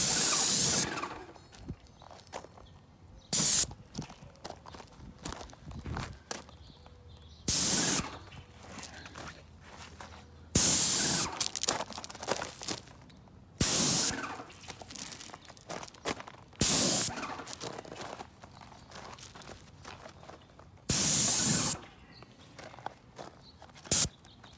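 Loud hissing sprayer bursts repeat every few seconds while painting cabinets, each lasting about a second, separated by quieter handling noises and shuffling.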